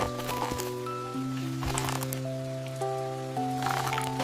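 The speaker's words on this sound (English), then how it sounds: "Bosco sits quietly, listening to each raindrop fall ever so gently." Soft rain pattering in a meadow, a steady gentle hiss with occasional light drop taps, mixed with calm held music notes throughout.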